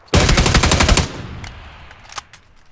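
Rapid automatic gunfire in the video game PUBG, a loud close burst of about a second of fast repeated shots, followed by a few scattered fainter shots and echoes.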